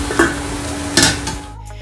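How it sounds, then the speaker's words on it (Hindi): Potatoes fry in a pan with a steady close sizzle, broken by two sharp scraping stirs of a utensil against the pan before the sound cuts off, with no talk. "प्याज कट करने एंड आलू फ्राई करने के लिए।"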